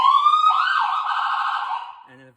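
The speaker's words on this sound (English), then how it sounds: "It's a Whelen Siren, and let's check it out." A Whelen electronic siren on a new fire truck pumper engine blares loud and close, a harsh rising and falling tone lasting about two seconds before cutting off abruptly, followed by a brief low tonal blip.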